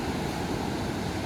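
Ocean surf on the Oregon coast roars as a constant broad wash of breaking waves, mixed with some wind rumble and heard fairly close with no voices.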